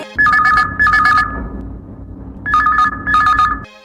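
A telephone rings on a radio phone-in request show in two bursts of rapid double trills, a pause, then two more bursts, loud and close with no talking.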